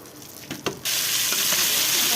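Tuna fish pieces with tempering spices dropped into hot oil, a few soft clinks followed by a sudden loud, continuous sizzle that stays close and steady.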